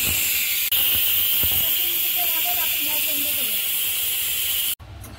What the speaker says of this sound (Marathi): आपल्या कुकरचा पण शिट्टी लागली आहे